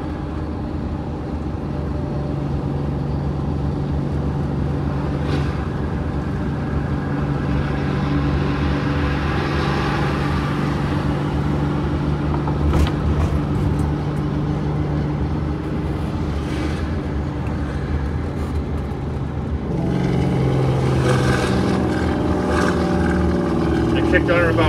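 Steady droning engine of a Flxible bus cruising and pulling through a gear shift, heard from inside with a rise in tone near the end while people talk over it.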